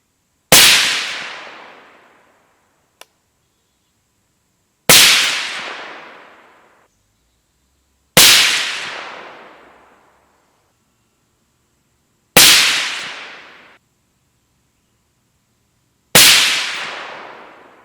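Five loud, sharp 300 Blackout rifle shots from a Ballistic Advantage 10.3-inch Hanson Premium barrel, fired outdoors, spaced about four seconds apart, each with a decaying echo tail and no talk.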